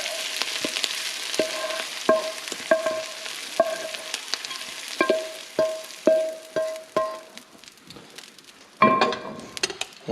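Onions sizzle steadily in a hot pan while a utensil stirs them, with a series of sharp clinks and scrapes against the pan and a louder burst of frying near the end.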